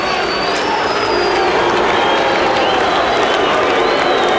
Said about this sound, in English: Hear that crowd, a little bit restive.